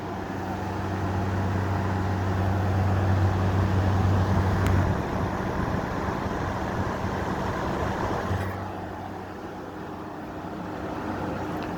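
A GE 5,050 BTU window air conditioner pulled from attic storage runs with a steady broadband whoosh and a low hum, the hum dropping out partway then returning.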